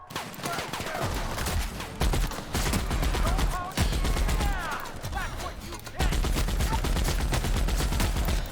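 Sustained gunfire rattles through a firefight in The Outer Worlds, with rapid repeated bursts and sharp cracks broken by brief pauses, loud and close, with a voice faintly underneath.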